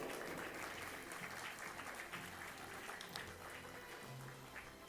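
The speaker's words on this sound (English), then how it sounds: "please give her a big round of applause" An audience at a film festival award ceremony applauds a winner with a continuous wash of clapping, heard faintly and at a distance.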